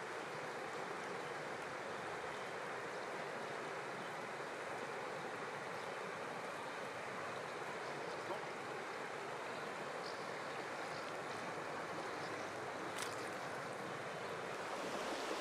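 The Mazos stream in Haute-Loire flows with a steady, continuous broadband rush of water, unbroken and fairly close, with no voices.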